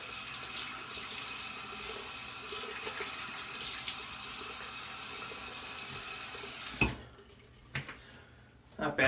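A bathroom tap runs water while a razor is rinsed during a head shave, a steady close rush that stops abruptly near the end, followed by a few brief drips and clatters.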